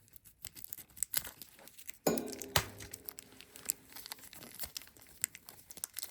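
Plastic bead packaging holding a pair of Czech Preciosa crystals, cut open with crinkling and tearing rustles followed by a sharp snip and a few light clinks, close and quiet with no talk.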